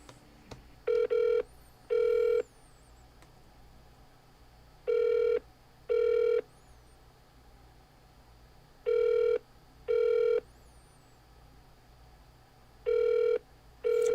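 A telephone ringing back-to-back in regular paired bursts, three or four sets of double rings spaced a few seconds apart, heard through a phone line over a faint steady hum, with no talking.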